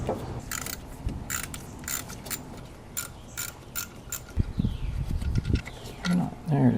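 Ratchet wrench clicking in short, repeated bursts while loosening E7 Torx fasteners, close by, followed by low clunks and handling noises.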